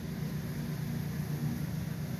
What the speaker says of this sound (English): I hear a truck